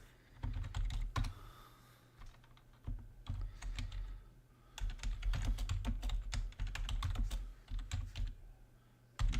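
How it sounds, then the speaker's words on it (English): Steady typing on a computer keyboard in uneven bursts of quick clicks with short pauses, close and clear, no voices. "Probably hear me typing."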